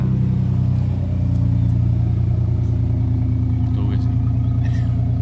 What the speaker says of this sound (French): On va attendre que le camion passe